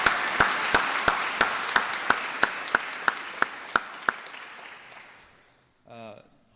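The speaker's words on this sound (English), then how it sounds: "Let's give them another big hand." A graduation ceremony audience claps, with a dense wash of applause and sharp single claps on a steady beat. It fades out over about five seconds and a voice briefly speaks at the end.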